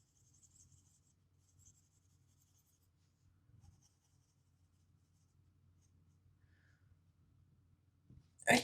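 Colored pencil moving lightly across paper with medium pressure, a soft, faint scratching that comes in short strokes with pauses between them. A brief louder rustle or knock near the end.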